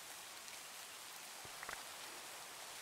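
Rain falling in the Minecraft modpack ATM Gravitas 2, a soft steady hiss of drops that is faint and continuous, with a couple of small taps partway through and no talking.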